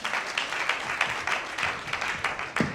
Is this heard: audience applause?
yes